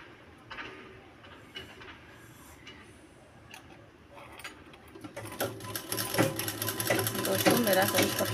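Sewing machine stitching a neck strip onto a two-piece umbrella frock, its motor whirring steadily and growing louder and busier in the second half, with someone speaking over it throughout.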